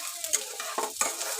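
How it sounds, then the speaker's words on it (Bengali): Thinly sliced potatoes fry in a pan and are stirred, giving a soft sizzle broken by three short scraping strokes, close and fairly quiet. "তা আলু ভাজা করে নিচ্ছি ঝিরিঝিরি করে কেটে"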